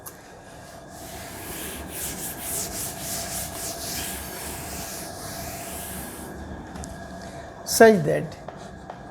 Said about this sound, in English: now I am writing on the top